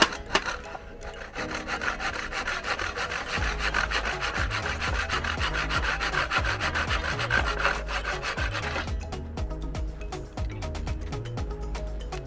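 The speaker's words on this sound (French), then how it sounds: "Et là, je viens finir tranquillement à la scie." Hand saw cutting through wood for a converted bus's bathroom floor, a steady continuous rasp of strokes running loud and close throughout, with no talk.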